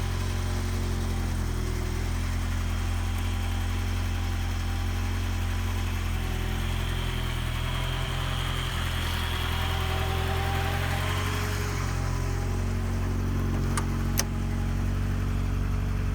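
A 1988 car with about 77,000 miles sits idling, its engine giving a steady low hum and rumble that stays close and constant, with a brief faint click near the end and no talking.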